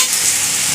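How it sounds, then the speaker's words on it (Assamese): Raw vegetables for chicken chowmein stir-fry in a hot pan, giving a loud, steady hiss and sizzle with no talking over it. "এইখিনি এতিয়া 1 মিনিটমান সময় ভাজিব লাগিব, বেছি সময় ভাজিব নালাগে।"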